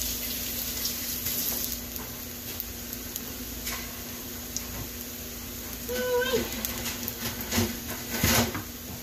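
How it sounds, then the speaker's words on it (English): A kitchen tap runs while hands are washed under it, giving a steady faint water hiss with a low hum beneath and a few splashes and clinks near the end. "Wash my hands off."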